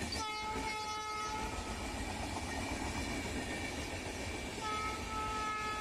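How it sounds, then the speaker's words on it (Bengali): The all-AC Sealdah Rajdhani express runs past a station platform in the evening, a horn blast at the start over a loud continuous rolling rumble of wheels and coaches. "এটি শিয়ালদা রাজধানী যাচ্ছে"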